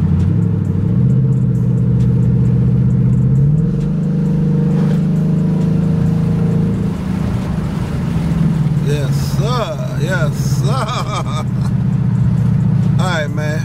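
A Ford Mustang engine revs loudly as the car accelerates, a deep, rising, sustained roar heard close up from inside, with pitch climbing and shifting through gears while people talk over it.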